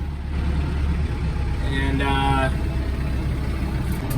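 A Kubota M7060 tractor engine idles with a steady, close mechanical drone, and a brief whining tone rises over it partway through, while a voice speaks a word.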